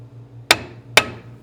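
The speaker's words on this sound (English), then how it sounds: "give them a bump with a hammer" Two sharp hammer strikes on brake caliper bolts to seat their washers during a 1951 Chevy disc brake upgrade, spaced about half a second apart, each ringing briefly over a low steady hum.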